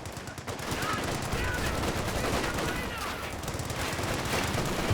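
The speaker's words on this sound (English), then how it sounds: ".1919 rifles working quite nicely against the Fox Grenadiers though." Rapid bursts of M1919 machine-gun fire in Company of Heroes 2, sustained and dense, layered with other battlefield gunfire throughout a busy skirmish.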